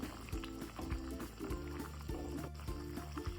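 Fish curry with murrel fish and chili bubbles in a pot, a quiet, steady run of liquid gurgles and pops with a regular burbling rhythm and no talking.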